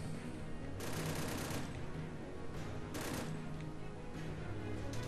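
Dense, continuous gunfire and blasts from machine guns and rockets in the Wii U shooter Devil's Third, a steady barrage with periodic louder bursts of bright noise, no talk over it.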